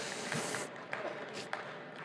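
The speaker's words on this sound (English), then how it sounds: "Give Peitry a round of applause." A studio audience gives a brief round of applause for a performer at a hypnotist show; the clapping is a faint, dense patter lasting about two seconds.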